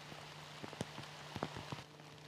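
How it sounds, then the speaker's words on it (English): Rain falling outdoors during an archery deer hunt, soft scattered drops tapping on a surface over a faint steady hum, quiet and close. "So much for the rain holding off."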